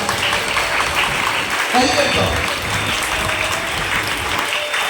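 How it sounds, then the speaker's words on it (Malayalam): A crowd at a prayer or healing gathering claps steadily, with applause filling the clip throughout and a voice speaking over it. "ഒന്ന് കൈയടിച്ചാൽ മകൻ നടക്കും"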